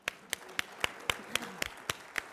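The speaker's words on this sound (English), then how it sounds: "We'll clap anyway." At a student scholarship awards ceremony, a single pair of hands claps about ten times in an even rhythm. The claps are sharp but fairly quiet, and there is no crowd applause around them.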